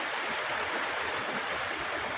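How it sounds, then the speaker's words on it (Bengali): A small stream, shrunk to a trickle, flowing and burbling steadily over rocks outdoors, a continuous close rushing wash with no talk. "এই জলটা এই দিক দিয়ে বয়ে এর ওপর দিয়ে যায়"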